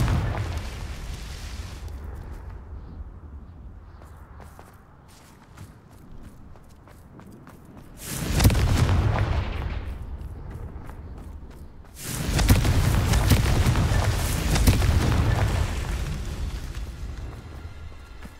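Confringo fire spell blasts in Hogwarts Legacy land as two loud, booming explosions, each a broad rumbling burst that decays over a few seconds, with softer magical crackle and movement between them.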